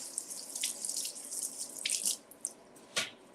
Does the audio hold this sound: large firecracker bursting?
no